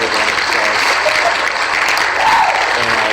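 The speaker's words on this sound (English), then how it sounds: "We're going to give you a double round of applause." A studio audience on a talk show keeps applauding, dense continuous clapping from many people, loud and even throughout with no talk over it.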